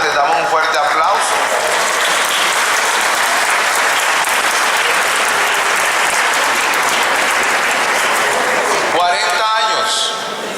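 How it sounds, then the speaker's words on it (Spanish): Strong, steady applause from a large seated audience at a national leaders' gathering continues for several seconds, with a voice speaking briefly near the end. "les damos un fuerte aplauso"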